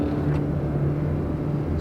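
Car engine pulling harder as more throttle is applied, a steady moderate rumble of road and engine noise heard from inside, brief and without talk.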